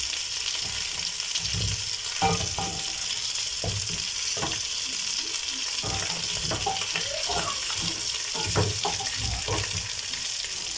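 Brined chicken pieces frying in a pan, stirred continuously: a steady sizzle runs throughout with repeated scraping and clacking from the utensil at irregular intervals, fairly close and alone with no talk.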